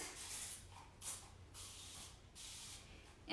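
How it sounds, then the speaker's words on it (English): An essential-oil hand mist is sprayed onto the hands in a few short, soft hissing bursts, quiet and close. "spray your hands."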